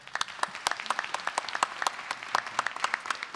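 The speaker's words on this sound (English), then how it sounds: "So a great round of applause to the panel" An audience applauds a panel at a career week event, a dense patter of many hands clapping close and steady for a few seconds.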